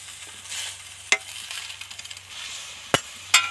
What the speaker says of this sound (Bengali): জল তো দিয়েই দিলাম নেড়ে চেড়ে দু চার মিনিট ভালো করে ফুটিয়ে দিলাম